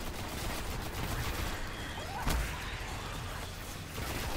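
Sustained gunfire in the video game Destiny, a dense rattling barrage with one sharper blast midway, loud and continuous throughout.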